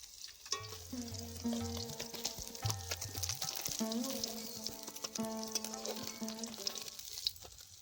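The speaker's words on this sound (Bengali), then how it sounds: "তেলে আমি বাকি মাছগুলো ভেজে নিচ্ছি" Tilapia fish frying in oil crackles and sizzles with occasional clatters, set against sustained melodic tones in the background.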